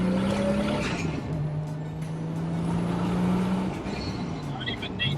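Toyota Soarer SC400 with a twin-turbo 2JZ-GTE engine drives along, a steady engine drone with a sustained low tone that holds and then eases off, loud and close throughout, with a brief higher whine near the end.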